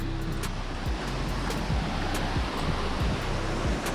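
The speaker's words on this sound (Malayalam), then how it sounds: "ഇതാണ് വെള്ളച്ചാട്ടം." A waterfall in a Karnataka forest reached by off-road track, a steady loud rushing roar of falling water with some wind buffeting the microphone.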